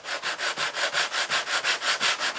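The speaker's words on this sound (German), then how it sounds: "Das mache ich ganz einfach mit einem Schleifklotz von Hand" A sanding block fitted with 80-grit paper is worked by hand along plywood kayak panel edges, making rhythmic back-and-forth rasping strokes, about five per second, close and even, with no talking.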